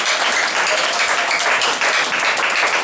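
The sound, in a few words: church congregation clapping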